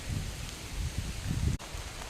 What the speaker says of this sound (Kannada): ಗಾಳಿ ಕೂಡ ಇದೆ ನೋಡಿ ಮಳೆಯ ಜೊತೆಗೆ